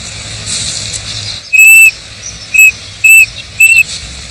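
A shrill, high-pitched homemade whistle sounds four times in short blasts, the first longest, loud and close over quiet outdoor background in heather moorland.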